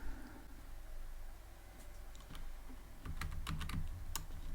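Computer keyboard typed on in quick irregular bursts of key clicks, faint and close, sparse at first then denser toward the end, with no talking over it.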